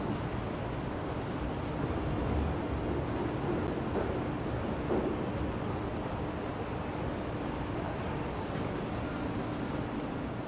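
Class 375 electric train 375911 running from Rochester to Chatham, a steady interior rumble and rolling hum with faint high whine, constant and moderately quiet throughout.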